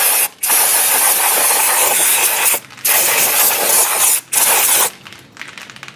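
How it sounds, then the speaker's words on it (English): Loud aerosol brake cleaner spray hisses in several long bursts separated by short pauses, close up, sprayed over drum brakes. "now I'm just gonna take some brake cleaner, spray everything down"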